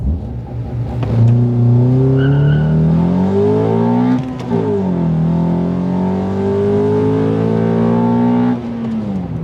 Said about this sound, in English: let's see what kind of 0 to 100 time I can do on the stock Gearset